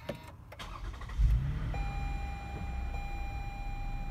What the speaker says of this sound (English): Hit the button to start the engine up.